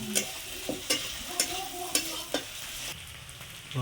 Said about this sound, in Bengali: জিরে বাটা, আদা বাটা দিয়ে ভালো করে নেড়ে চেড়ে